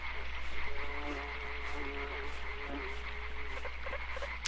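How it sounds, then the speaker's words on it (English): Flies buzzing in the video game Limbo: a faint, wavering drone with an eerie tone that comes and goes over a low, steady ambient hum, with no voices. "It's a creepy little buzzing noise."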